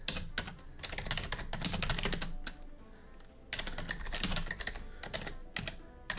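Rapid keystrokes on a computer keyboard come in quick clattering bursts, pause briefly, then resume, close and fairly quiet with no voices over them.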